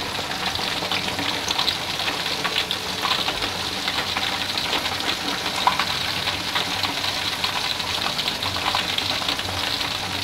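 Chicken frying in hot oil gives a steady, dense sizzle with crackling pops, continuous and close up throughout.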